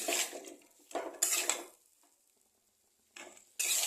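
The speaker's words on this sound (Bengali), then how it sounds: "একটু জল দিয়ে এটাকে আবার একটু ভালো করে 1-2 মিনিট কষিয়ে নেব।" Potato and soybean curry stirred and fried in a pan, metal spoon scraping and clattering in several bursts separated by quiet pauses, close and without speech.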